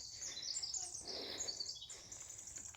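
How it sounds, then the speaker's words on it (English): Birds chirp outdoors during a family walk along a road, high twittering calls fairly steady and moderately close throughout, with a soft rustle of movement underneath. "You can hear the birds."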